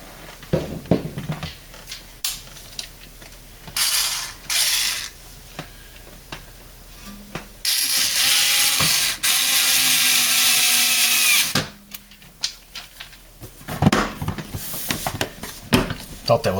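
Screws driven back into a Samsung dishwasher with a power drill, two sustained loud whirring runs close by, the second longer, separated by handling clatter and a speaking voice.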